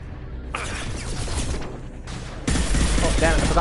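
Gunfire from automated flight weaponry in the video game Mass Effect 2, a steady, loud stream of rapid shots that swells into heavier, denser firing near the end.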